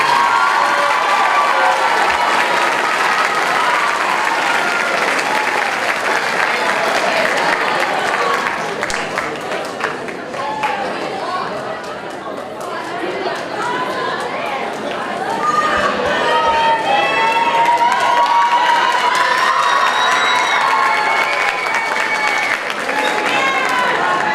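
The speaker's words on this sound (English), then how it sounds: "Everybody, round of applause for this student." A middle school awards assembly audience applauds and cheers for an honored student, a dense sustained wash of clapping with whoops and children's shouts, dipping briefly midway then swelling again, with chatter mixed in.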